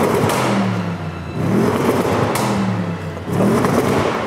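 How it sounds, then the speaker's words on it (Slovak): An Audi RS with a sports exhaust revs repeatedly, close and loud, in three rising engine pulls separated by brief dips, with a sharp, rasping exhaust note. "Tak toto je podstatne ostrejší zvuk, ale je pravda, že tu máme aj športový výfuk v porovnaní s RS6, kde nie je."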